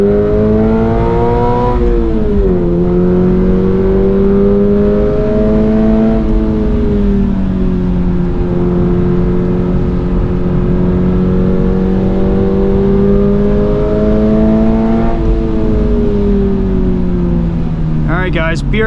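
A 2024 Subaru BRZ tS is driven hard around a wet Road America circuit, its engine droning loudly from inside the cabin, rising and falling in pitch through gear changes and corners without pause.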